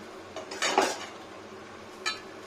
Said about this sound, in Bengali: এবার ফোটার জন্য এই কড়াইটাতে ঢেলে নেব।